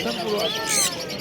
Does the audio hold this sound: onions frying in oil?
no